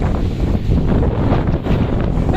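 Strong wind buffets the microphone on an outdoor bike ride along a hilly loop, a loud continuous low roar and rumble with no voices.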